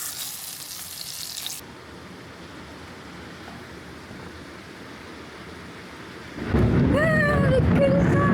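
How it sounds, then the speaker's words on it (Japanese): Thunder from a nearby lightning strike in the summer countryside rumbles up into a loud, sustained roar after a quieter stretch of rain, with birds calling faintly over the top. "やばい、雷だ。"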